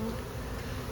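A honeybee swarm drones in a dense, continuous buzz, close and steady throughout, with no voices.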